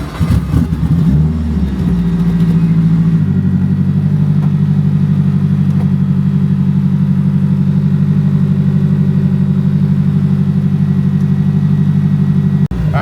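A 1000 HP all-wheel-drive Honda Civic on a street pull, loud engine rising sharply through a shift then holding a steady heavy drone with deep rumble, very close and alone.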